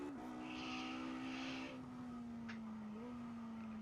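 A race car on cold tyres drones steadily through a lap of Imola in a racing game, its engine note holding nearly level with slight dips and a brief squeal of tyre noise, with no voices over it.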